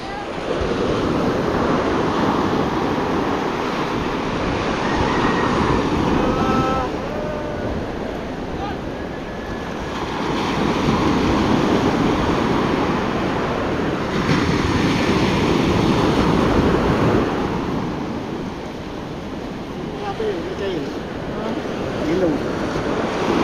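Rough sea waves surge and crash continuously, loud and close, building in swells every few seconds, with wind buffeting the microphone and people talking briefly underneath.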